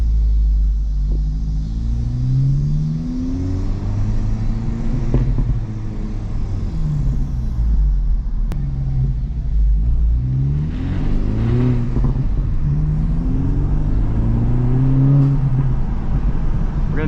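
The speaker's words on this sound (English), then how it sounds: "Oh, that exhaust sounds great." Exhaust of a Honda Civic Type R FL5 heard from inside the moving car, a deep loud rumble that rises and falls with repeated revving and shifting through the gears.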